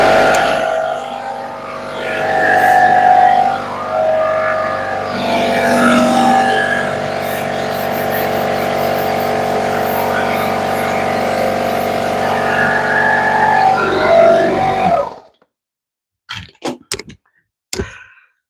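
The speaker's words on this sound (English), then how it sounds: "I'm gonna make a little bit of noise with this generator for like 2 seconds." A small generator roars loudly and continuously for about fifteen seconds in a leatherworking space, then cuts off abruptly, leaving a few scattered clicks.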